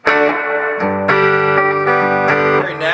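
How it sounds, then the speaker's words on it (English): Electric guitar through a Bogner Ecstasy amp with spring reverb from a Digitech DigiVerb, loud strummed chords changing every half second or so, each ringing into a smooth reverberant tail. "And just to start off, I'll give you a little reverb."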